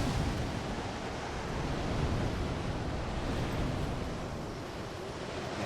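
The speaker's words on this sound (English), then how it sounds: "It's a little windy out today." Steady broadband wind gusts across an outdoor area in Dark Souls 3, a continuous soft roar like surf with gentle swells and no other sounds.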